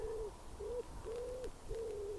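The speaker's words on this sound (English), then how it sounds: "listen to the sounds of these birds and to share it with you" Owl-like hoots sound outdoors in a steady series of four drawn-out, even calls, each rising a little and then falling. They are fairly close and clear over a soft background hiss, with no voices.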